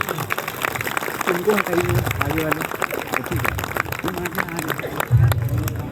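At a Sant Gadge Jayanti stage event in Jharkhand, a crowd gives loud applause to welcome an honoree. Sharp claps patter steadily throughout, mixed with the murmur of people talking.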